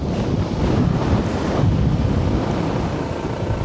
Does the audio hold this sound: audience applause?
no